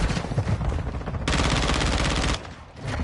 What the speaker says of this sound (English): There's a mortar strike in the house.